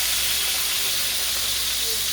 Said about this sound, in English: Just to saute those mushrooms in there